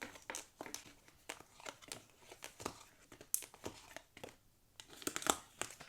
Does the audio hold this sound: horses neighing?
no